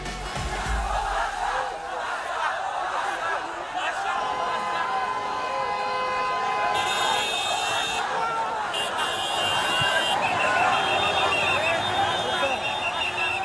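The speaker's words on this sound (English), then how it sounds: "outside his Mumbai home, a crowd has been gathering all afternoon" A large crowd of fans gathers outside a film star's Mumbai home on his birthday, waiting for him to appear. A dense, steady roar of overlapping voices and shouts carries throughout, with occasional louder cheering surges.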